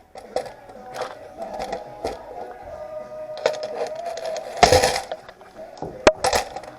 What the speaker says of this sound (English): You just snip the tops off.